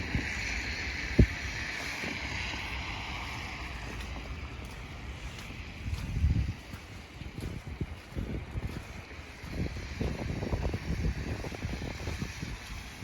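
Wind gusts through snow-laden trees during a New York snowfall, a soft, low rushing with uneven buffeting swells on the microphone, fairly faint and with no voices.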